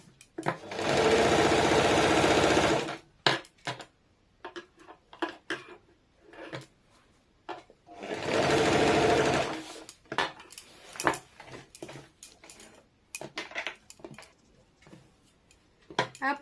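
A sewing machine runs in two loud, steady bursts of rapid stitching as a palazzo is sewn, with clicks and handling noises of fabric between the bursts.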